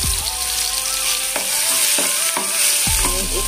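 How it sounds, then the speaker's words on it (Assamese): Garlic and ginger frying in hot oil in a pan, a steady close sizzle with a few clinks of a utensil stirring against the pan. "এইফালে আমাৰ তেল গৰম হৈ গ'ল আৰু ইয়াতে মই দি দিছোঁ নহৰু, আৰু লগতে দিছোঁ এইফালে"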